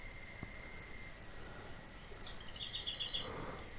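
Seagulls cry in the Fishing Planet video game, a few thin chirping calls rising over a quiet ambient bed, growing a little louder toward the end with no talk.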